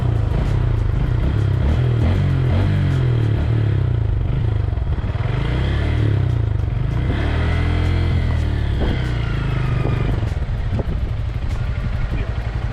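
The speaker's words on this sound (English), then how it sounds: "I was pleasantly surprised by the exhaust note. It had a mid-range grunt to it" A 2022 Honda Grom motorcycle engine rumbles close by with a deep, steady exhaust note, revving up and down while riding, with some rattling clatter.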